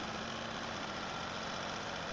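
A vintage diesel engine from about a century ago, with a huge flywheel, runs at a steady, dense mechanical drone with constant low rumble and no pauses. No one speaks.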